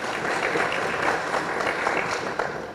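Steady, dense applause from an indoor audience at a police annual crime report launch, continuous and fairly loud throughout with no speech over it.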